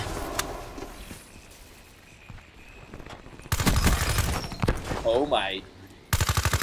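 Automatic gunfire bursts from the Weevil rifle in Call of Duty Black Ops 3, loud rapid volleys with gaps between them, while a player talks over the shooting.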